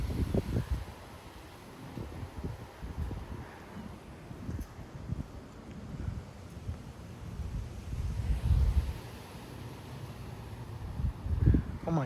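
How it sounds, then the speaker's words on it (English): A strong wind gust roars around a tree in Frisco, Texas, a broad rushing buffet with low microphone thumps that swells and eases in surges across the span. "Here comes the gust."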